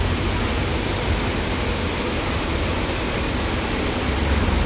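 Water flowing in a canal gives a steady broadband rush, constant and fairly loud throughout with no talk.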